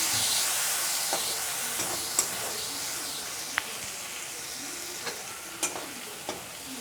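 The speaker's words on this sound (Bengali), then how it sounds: "আমি মশলাটা আলুর মধ্যে দিয়ে দিয়েছি, দিয়ে এটাকে তেল একটু ভালো করে ভেজে নেব।" Potatoes and spices fry in oil for a vegetarian soybean and cabbage curry, a steady broad sizzle with occasional sharp crackles and pops, close and continuous with no talk.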